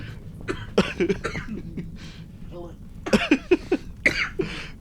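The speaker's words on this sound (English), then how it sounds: "cough into the mic" Several short coughs, close to the microphone, mixed with a person speaking and light throat noises.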